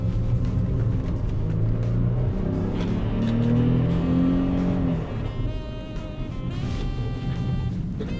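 A 2009 Mercedes CLK280, rear-wheel drive, rumbles through a tight turn, its engine holding a steady low drone that rises briefly in pitch before settling back as the car rounds the corner.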